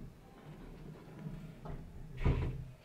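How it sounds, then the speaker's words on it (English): Sliding door of a Japanese ryokan room being slid along its track, with a soft low rumble that builds to one firm knock near the end, heard alone in a quiet room. "It's on a sliding door."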